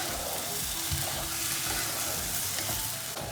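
Red pasta sauce with greens sautés in a pan, giving a steady, close sizzle and bubbling with faint stirring scrapes throughout, no voices.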